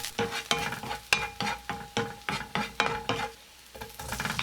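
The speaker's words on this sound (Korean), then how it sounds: "프라이팬에 식용유 한 스푼, 들기름 한 스푼 넣어 중약불로 마늘을 볶아주세요." Garlic stir-fries in cooking oil and perilla oil over medium-low heat, a near sizzle punctuated by a rhythmic series of spatula scrapes and taps about twice a second.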